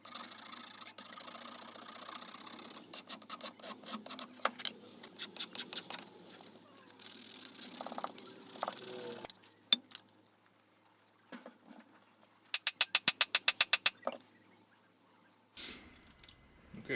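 Hand filing on the wooden handle of a splitting maul, heard as bursts of rhythmic rasping strokes with pauses between them, then a quick, sharp run of strokes near the end.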